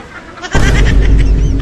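A loud, harsh turkey call bursts in after a moment of quiet, a rough gobbling from a large turkey continuing over background noise at Manila Zoo.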